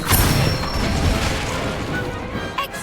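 An Incendio fire spell cast in Hogwarts Legacy bursts out as a loud, close whooshing blast with a crashing impact, a broad roar that holds and then fades with a faint tail.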